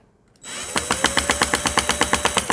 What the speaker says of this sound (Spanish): Si yo estoy atornillando en la misma línea, no hay problema.